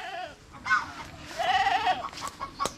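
Goats kept as farm animals bleat in a few wavering calls, one longer drawn-out cry in the middle and sharper short bleats after it, with chickens faintly mixed in nearby.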